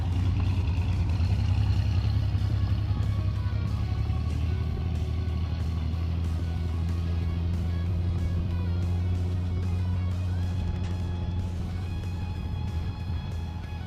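A muscle car at a car show runs its engine in a steady, loud low rumble that stays constant for the whole stretch, with no clear revving surges and no voices.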